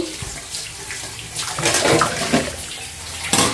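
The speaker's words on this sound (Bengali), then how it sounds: "তো এখন এগুলা ধুই, রান্না তো শেষ, এগুলো সব পরিষ্কার করে ফেলি, গুছায় রেখে দিই।" Dishes and pots are washed under running tap water after home cooking, with a loud, close, continuous gush of water and faint clinks of utensils.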